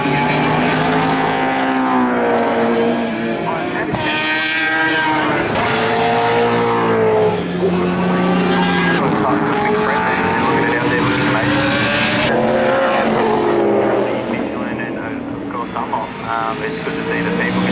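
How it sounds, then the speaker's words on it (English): A Mazda RX-8 sports sedan race car's rotary engine screams past at high revs at Winton Raceway, climbing through gear changes with sharp shifts, with a commentator talking over it. "The car sounds absolutely amazing."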